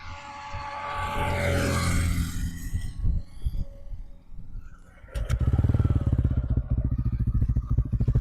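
A TVS Ronin motorcycle sits on a road with some clattering and wind noise, then its engine bursts into a loud, close, rapidly pulsing idle and revs.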